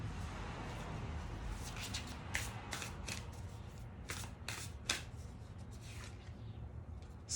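Oracle of the 7 Energies cards by Colette being shuffled, a close papery riffling that comes in quick bursts over a steady low background hum, with no voices.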